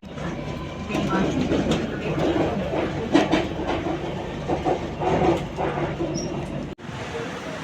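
A metro train rumbles steadily past with a continuous broadband roar and faint rhythmic clatter, fairly close, near Edappally metro station, ending in an abrupt cut.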